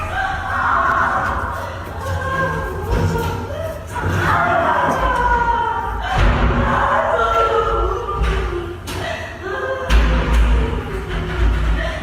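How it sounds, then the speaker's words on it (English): Heavy thuds and bangs repeat irregularly in a hallway amid a chaotic mix of voices and commotion, with a reverberant, enclosed feel. "Loud banging echoes through the hallway."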